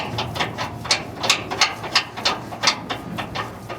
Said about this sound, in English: I grab the wrench.